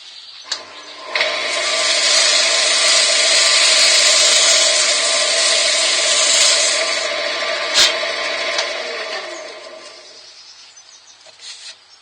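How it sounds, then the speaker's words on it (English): Wood shavings pressed against a turned olive ash bowl spinning on a lathe give a loud, close, continuous rubbing hiss over the motor hum, rising and then fading as the pressure eases. "I'm going to burnish it again with some more shavings"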